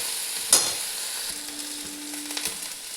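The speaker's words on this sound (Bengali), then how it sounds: "এরপরে আমি দিয়ে দিচ্ছি একদম একটু আদা রসুনের পেস্ট" Ginger garlic paste frying with browned onions in a pan, a steady close sizzle with one sharp clatter early on and a few light stirring knocks.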